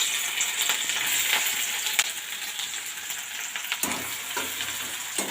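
Chopped ingredient frying in hot oil with a little sugar for chickpea ghugni, a dense continuous sizzle with occasional scrapes and taps of a spatula, close and steady throughout.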